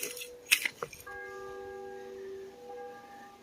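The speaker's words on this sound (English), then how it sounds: "Aw, church bells." Church bells ring in the distance outdoors, a few soft clinks first, then sustained tolls hang and fade over quiet surroundings.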